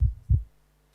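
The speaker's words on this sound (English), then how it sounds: "you get the sound of a heartbeat" A deep, soft heartbeat used as a sound effect in a music track: two close low thumps in a lub-dub pair, heard alone and fading into near silence.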